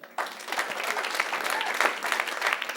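Comedy club audience at Crackers Indianapolis bursts into applause, a sudden onset of dense clapping that holds steady and fills the room for a few seconds, with a little crowd noise mixed in.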